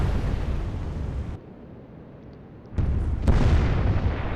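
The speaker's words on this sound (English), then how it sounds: "Yeah, big explosion." A naval shell explosion in the naval warfare game Atlantic Fleet, a sustained roaring blast that drops away, then a second heavy boom surges back in loud and rumbling, with no talking.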